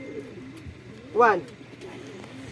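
Pigeons at a pigeon loft, a single short coo rising briefly and clearly above a background of steady talk.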